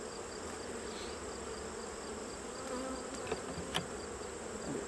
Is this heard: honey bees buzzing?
yes